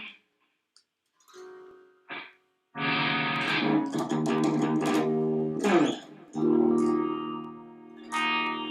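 An electric guitar runs through a heavy distortion effect, sounding loud, close chords and sustained notes in several bursts separated by short gaps, with a few quick clipped stabs early on.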